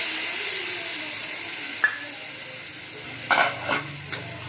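Potatoes sauté in a pan with cumin, bay leaf, ginger-cumin paste, tomato, turmeric, salt and chili for pea ghugni, a soft hissing sizzle fading gradually, broken by a few short scraping stirs near the end.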